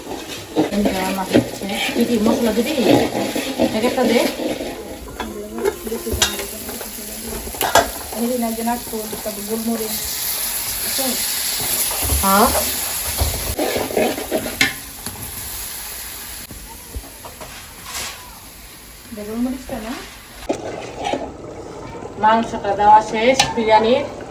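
Meat and papaya for biryani being stirred and fried in a pan at a village pitha festival in Keraniganj, Dhaka, with steady sizzling and scraping of a spoon against the pot under intermittent nearby talk.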